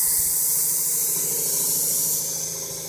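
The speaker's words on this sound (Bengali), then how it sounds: "প্রেশার বের করে দেওয়া হচ্ছে" A pressure cooker vents steam while Arabian kabsa cooks, a loud steady high hiss that runs unbroken and fades slightly toward the end, with no voices over it.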